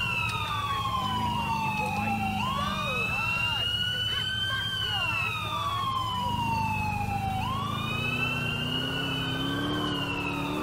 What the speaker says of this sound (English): Cranky, police cars everywhere.